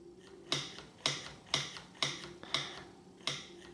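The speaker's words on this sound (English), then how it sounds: "And a little tight, so I'm gonna loosen this just a little bit." Six or seven evenly spaced mechanical clicks, close and fairly quiet, ring out as a bicycle V-brake adjustment is loosened, each with a sharp onset and short ratcheting tail.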